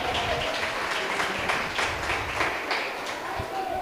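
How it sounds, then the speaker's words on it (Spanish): Applause from a studio audience during a family finance talk show, a steady wash of clapping at moderate volume with voices mixed in. "Un fuerte aplauso."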